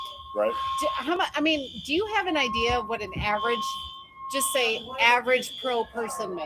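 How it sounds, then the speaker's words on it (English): A building fire alarm rings at a BMX racing event, a steady piercing electronic tone that runs beneath two men's ongoing conversation. "That's the fire alarm."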